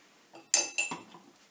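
A metal teaspoon clinks against a measuring cup while lemon juice is measured for an asparagus potato cake in a Thermomix TM31, two or three quick bright clinks, close and alone.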